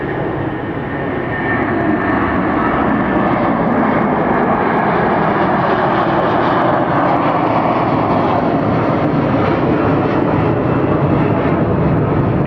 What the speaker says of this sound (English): I believe this is the Virgin Atlantic to Manchester.